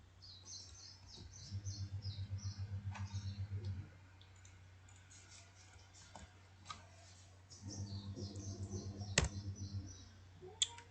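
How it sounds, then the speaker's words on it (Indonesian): Bursts of rapid clicking keystrokes from a computer keyboard at a workstation, two short runs of steady typing separated by quieter pauses with faint clicks, close and moderately soft. "kita masuk ke dalam workstation, yaitu kita mengetik"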